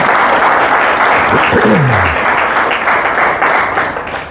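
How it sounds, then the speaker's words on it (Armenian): A church congregation claps loudly and continuously in a reverberant hall to welcome a first-time visitor, with a voice briefly calling out over the applause before it thins slightly toward the end. "բարձր ծափահարենք մեր Քրոջը"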